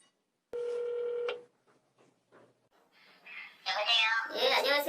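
A single steady telephone tone sounds for under a second, followed by a short string of faint, separate dialing beeps before a voice starts talking near the end.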